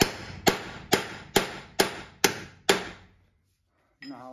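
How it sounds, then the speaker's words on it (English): A hammer drives a long punch against the rear driveshaft at the transfer case of a 2007-2021 Toyota Tundra, giving seven sharp, evenly spaced metallic taps close up, each ringing briefly before quiet. "I just use a long punch and give it a couple taps."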